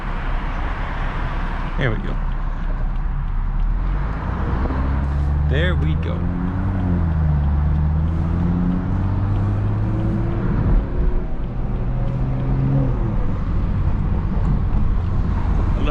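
A 500whp car with a B58 engine cruising at low speed puts out a deep, steady exhaust drone with rising and falling tonal sweeps from the engine, heard from the cabin with a voice speaking briefly over it.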